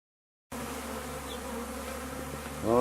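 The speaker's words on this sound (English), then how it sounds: "Oh, yeah, they are busy, aren't they? Busy bees." Honey bees buzz at a beehive in a steady droning hum close by, starting abruptly after a moment of silence, with a brief higher whine near the end and no talk.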